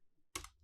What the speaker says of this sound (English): You can hit tab on the keyboard and start typing the name.